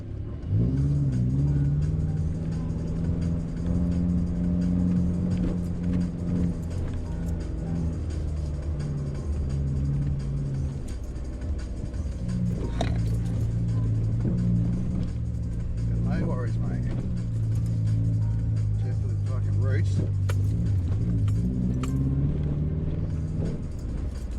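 Subaru XV driving off-road in first gear, a steady low engine drone with rising and falling pitch as it climbs over rough, root-strewn ground, close and continuous, with people talking over it.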